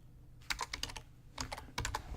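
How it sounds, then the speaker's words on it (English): Keys on a computer keyboard clatter close up in three quick bursts of several rapid taps each, separated by brief pauses in a quiet room. "Typing and talking is a tricky one."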